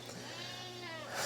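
Goats of the Saanen and Oberhasli breeds, Swiss mountain dairy goats on a biodiverse farm, bleat in a brief, steady, close call with a wavering pitch.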